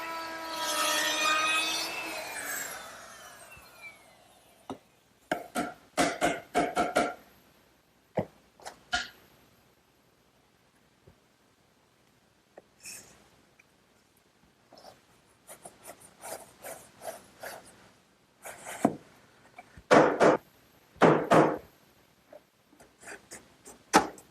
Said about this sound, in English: put a decorative edge on all 4 sides of the drawer front using a 1/4-inch round